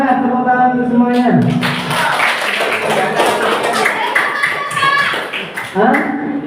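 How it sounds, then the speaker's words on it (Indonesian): A classroom group claps together at a group-activity session, a loud burst of hands following a voice, fading as talk and shouts come back over the top. "Tepuk tangan untuk semuanya."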